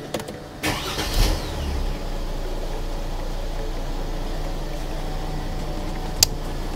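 A Mercedes GLC engine settles into a steady low idle after a brief surge near the start, running evenly and close, with a faint click near the end.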